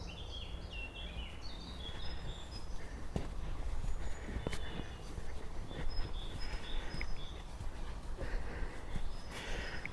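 Birdsong in a memorial woodland on a hilltop, with scattered chirps and short calls over a steady outdoor hiss and rustle, the birds sounding fairly distant, no voices.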